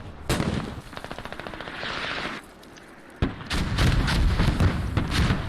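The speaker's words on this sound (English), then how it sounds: "Artillery barrage coming in for the US" Incoming artillery barrage in the Squad video game: loud rapid gunfire bursts, then a pause and a heavy blast followed by sustained crackling, rumbling fire close by, with no talk.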